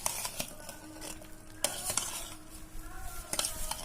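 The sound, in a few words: mixing mango pieces with spice powder for pickle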